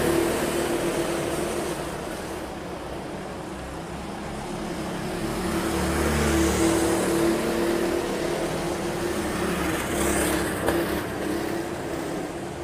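Racing karts run laps at a TOPGUN round, their engines a continuous loud drone that swells as the pack passes near and then fades back to a steady hum.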